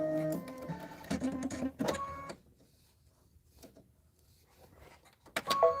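An embroidery machine sews a placement stitch in quick bursts of whirring, chattering needle action for about two seconds. A near-silent stretch follows before the motor starts up again briefly at the end.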